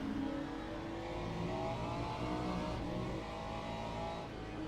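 GT3 race car engine from the sim racing game Le Mans Ultimate, in a championship race at Spa-Francorchamps: a steady, close engine drone with climbing pitch through the gears, continuous and alone throughout.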